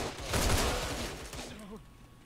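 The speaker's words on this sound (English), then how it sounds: "That was a couple of sniper bullets with my ass's name on it." Sniper rifle shots in a first-person shooter game, a burst of sharp cracks early on that fade into a lingering rumble, with game voices or noise underneath.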